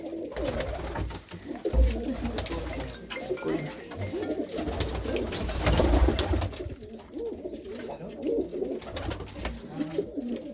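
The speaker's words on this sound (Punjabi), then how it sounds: "ਬਹੁਤ ਹੀ ਕਬੂਤਰ ਆ ਵੀਰ ਹੋਣਾ ਦੇ ਕੋਲ" A large flock of pigeons coos in overlapping soft throaty calls close by, with wing flutters and rustling mixed in, continuous throughout.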